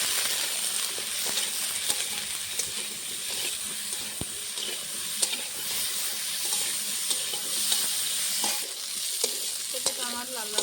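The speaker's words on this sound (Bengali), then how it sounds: "দিয়ে দেবো সামান্য নুন, সামান্য হলুদ গুঁড়ো দিয়ে ভালো করে ভেজে নেব।" Mixed vegetables sizzle steadily in hot oil with salt and turmeric for a Bengali mixed vegetable dish, with continuous frying hiss and repeated scrapes and clinks of stirring close by, no talking.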